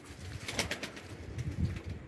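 A Pakistan-breed pigeon coos softly nearby, a few low throaty murmurs in a short quiet stretch.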